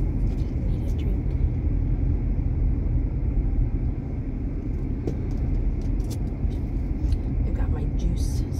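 A car cruises along winding Oregon country roads, heard from inside as a steady, loud low rumble of engine and road noise with faint clicks and rattles over it.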